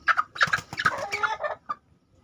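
Chickens in a poultry pen give a short burst of close, clear clucking, several quick clucks in a row with no talk.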